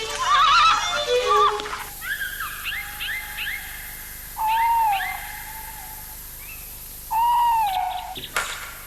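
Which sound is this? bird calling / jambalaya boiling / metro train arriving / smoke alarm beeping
bird calling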